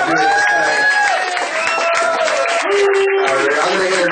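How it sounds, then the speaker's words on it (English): An audience at a comedy show claps and cheers loudly for the comedians, a thick continuous wash of applause with whoops and shouted voices rising above it throughout. "give these comedians a big round of applause for coming out and doing this tonight"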